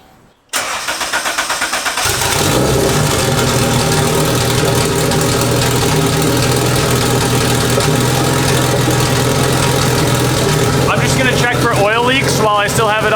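A turbocharged Honda Civic with a freshly installed big turbo, new wastegate dump, exhaust and manifold starts up and settles into a steady, loud idle, with a person talking over it near the end.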